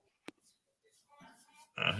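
A pig gives a few quiet, short oinks and grunts close by, spaced out over a couple of seconds, then a louder rough snorting burst at the end.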